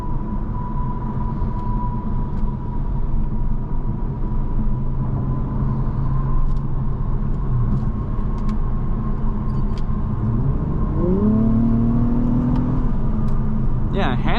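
A 2022 Acura TLX Type-S driving, its steady engine and road rumble continuous and loud from inside the cabin, with the engine note rising and shifting toward the end; a voice speaks over it.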